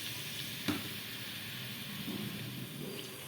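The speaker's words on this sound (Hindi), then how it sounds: "गरम हो गया है, अब इसमें हम प्याज शामिल करेंगे।" Onions sizzling in hot ghee in a karahi, with a steady broadband frying hiss throughout, a brief sharp clatter near the start and soft stirring sounds later.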